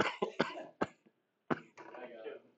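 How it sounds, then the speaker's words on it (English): Several sharp coughs in quick succession, close and loud, followed by a person beginning to speak. "I started coughing and I didn't hear that second part"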